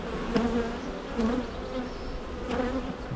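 Honeybees buzz steadily around an opened hive during an inspection, a continuous close drone with a few brief louder sweeps as individual bees pass near.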